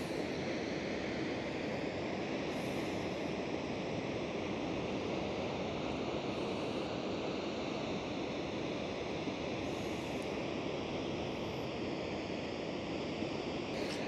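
A steady, broadband roar of rushing water fills the whole stretch, constant and loud with no breaks, standing close to a cascading waterfall in Iceland, its spray reaching the listener.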